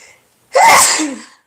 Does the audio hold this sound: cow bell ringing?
no